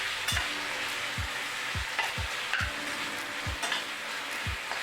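Chopped tomatoes and browned onions sizzle steadily in a pan, with a spatula scraping through them in a regular rhythm of about two strokes per second, close and fairly loud with no talking.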